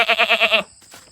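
A pet goat gives one quick, close bleat made of several rapid pulses, loud and alone, then fades into quiet background noise.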